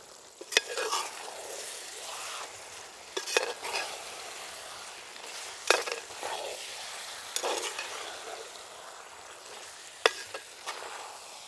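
Dry fish brinjal thokku with coriander being stirred in a pan, soft sizzling broken by several sharp scrapes and taps of the spoon against the metal, close and unhurried.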